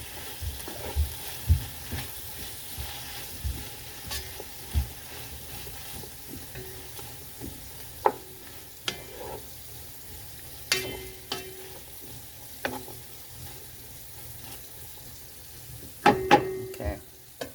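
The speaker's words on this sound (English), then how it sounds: "Let that saute down some more" Vegetables with minced garlic and red chili pepper sautéing in a pan, a low sizzle beneath repeated spoon knocks and scrapes against the pan, close and intermittent, with faint speech now and then.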